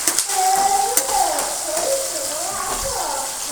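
Green chillies fry in hot oil with cumin and mustard seeds for tomato pachadi, giving a steady, close sizzle that stays even from start to finish.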